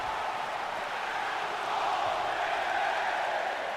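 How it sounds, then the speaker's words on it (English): Crowd cheering and roaring in the WWE 2K19 wrestling video game, a steady broad wash of arena noise that swells slightly louder midway and holds throughout. "the crowd more than happy to give him the reaction he wanted right there"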